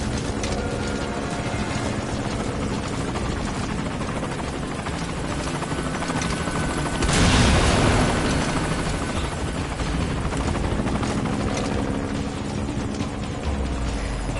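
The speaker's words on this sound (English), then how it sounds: "Ah, the chopper! Do something!" A military helicopter in Metal Gear Solid 5: Ground Zeroes roars steadily and loudly throughout, its rotor drone swelling briefly at the midpoint as it passes close, with no talk over it.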